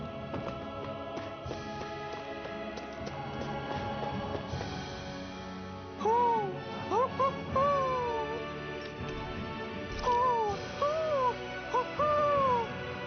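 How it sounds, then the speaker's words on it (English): An owl hoots in the video game Tales of Arise, a series of clear wavering calls in two groups over steady ambient game music, with no talking. "I'm surprised there are owls here, too."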